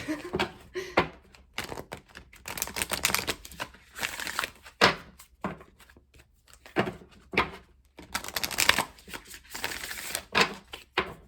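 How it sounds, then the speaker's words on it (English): Repeated bursts of riffling and flicking tarot-style cards being shuffled up close during a spiritual reading, coming in uneven clusters with short pauses between. "So I'm just going to do some shuffling"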